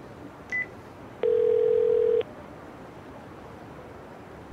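Telephone dialing tones from the video game Yakuza Kiwami 2: a brief high beep, then a single steady tone lasting about a second, clear and alone over quiet background.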